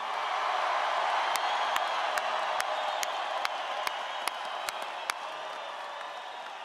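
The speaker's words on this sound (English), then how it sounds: "Give them another round of applause." A crowd at a political rally in Colorado Springs claps and cheers in a steady, moderately distant roar, with occasional sharper claps standing out above the continuous wash.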